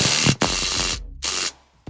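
Brisk ratcheting from a ratchet wrench with a 33 mm socket on the front axle of a Ford F150 4x4 during reassembly, two loud close bursts of clicking separated by a short pause.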